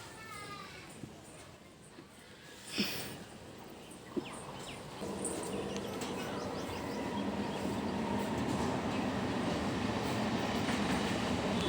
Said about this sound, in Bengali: ওই যে দেখো ট্রেন যাচ্ছে